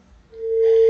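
Busy tone on a radio call-in phone line after the caller disconnects, a single steady electronic tone rising in loudness and holding briefly, heard alone.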